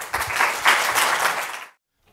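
Audience applause after a conference talk on website taxonomies, a dense burst of clapping from a room of developers that holds steady for about a second and a half, then cuts off to silence.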